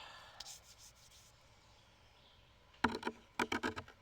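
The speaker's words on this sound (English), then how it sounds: "You see where I started polishing, not polishing, sanding it a little bit." A cut stone is sanded by hand, giving soft rubbing strokes early on, then after a quiet stretch several sharp, close abrasive bursts in quick rhythmic succession.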